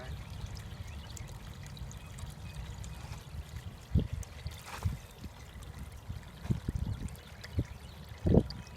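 Tap water pours steadily into a 2-gallon bucket on a counter, a continuous close trickle with a few louder splashy bursts toward the end; no talking.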